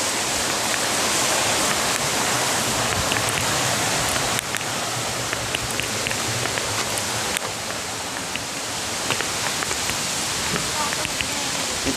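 Water pours continuously at Tad Kwang Chi waterfall, a dense, even hiss and roar of flowing and splashing water that stays loud and steady throughout.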